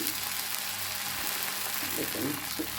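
Uttapam batter mixed with onion, green chili, cumin and coriander sizzling on a hot griddle pan: a steady, close frying hiss that runs throughout, with faint clinks toward the end.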